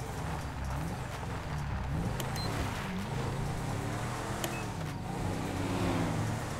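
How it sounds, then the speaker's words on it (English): A Porsche in GTA 5 sweeps around a corner, its engine droning loud and close with the pitch climbing and falling as it shifts through gears, a continuous roar with no talking. "This Porsche got squirrely going around the corner there"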